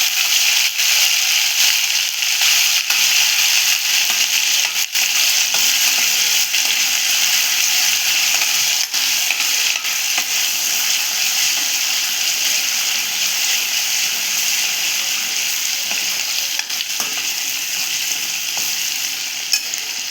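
A spoonful of ginger-garlic paste fries in a pan over lowered heat, a dense, even hiss and sizzle that carries on unbroken, close and fairly loud, with no voices.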